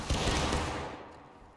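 A musket volley in the video game War of Rights, with a line of rifles firing almost together in one sharp crackling burst that rolls and fades away over about a second and a half.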